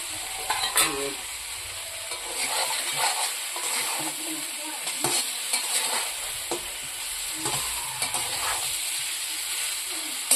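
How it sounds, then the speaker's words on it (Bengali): Rui fish heads fry in spiced oil, giving a continuous hiss and sizzle with intermittent scraping and clinks as a spatula stirs the pan close by. "কিছু সময় মাথাগুলোকে কষিয়ে নেব"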